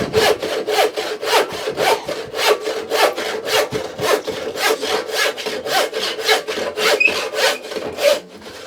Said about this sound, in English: Let's try and do that with the crosscut saw.